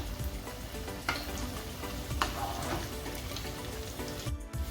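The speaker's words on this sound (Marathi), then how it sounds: "मी सर्व कबाब तळून घेते" Soybean kebabs shallow frying in oil, a low steady sizzle with a few sharp spatula taps and a brief scrape near the end, close and quiet, with no talk.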